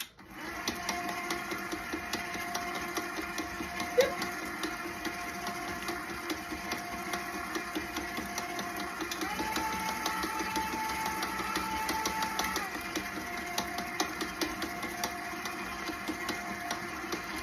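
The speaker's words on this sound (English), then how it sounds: "with the mixer on, medium-low speed, just blend in the egg yolks" Electric mixer at medium-low speed blending egg yolks into traditional pound cake batter, a steady mechanical whir with a faint knock that continues throughout, with no speech.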